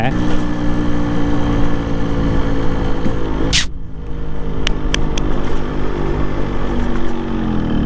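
A Yamaha RX two-stroke motorcycle runs steadily nearby, its buzzy, rattling idle continuous and fairly loud, broken only by a brief sharp click midway.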